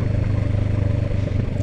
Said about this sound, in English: Kind of letting the motorbike do talking for me today.